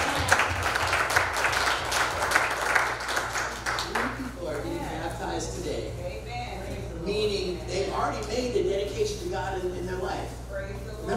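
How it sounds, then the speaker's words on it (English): Church congregation applauding during a worship service, a short burst of hand clapping at the start that fades out as a voice speaks over quiet room noise. "Another hand clap."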